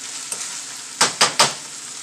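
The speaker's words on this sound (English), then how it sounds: "let's go ahead and drain this meat right quick" Cooked ground meat being drained in a pan: a faint sizzle, then three sharp, close hissing bursts in quick succession, each fading quickly.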